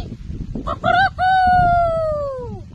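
A human voice imitates a rooster's crow, a short broken start then a long drawn-out call that falls away, loud and close.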